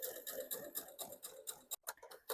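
A sewing machine shirrs fabric with elastic thread in a fast, even stitching rhythm, close and clear, with a brief pause before the needle runs on.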